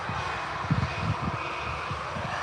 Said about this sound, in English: 787's up into the sky and on the turn already